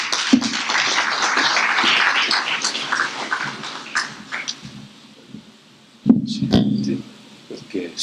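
Audience applause for Dr. Pere Macías at an international governance forum, steady clapping for several seconds, fading, then a brief renewed burst near the end as talk begins.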